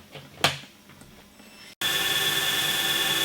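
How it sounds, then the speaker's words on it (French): Roughing grinding wheel cutting down the rim of a crystal bowl in a Baccarat crystal workshop: after a brief thump and quiet background, a loud steady high whine with a gritty hiss starts abruptly and holds. "Donc là je vais utiliser une meule d'ébauche pour la rabaisser déjà."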